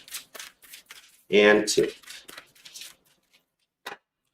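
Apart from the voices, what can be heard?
shuffling a tarot card deck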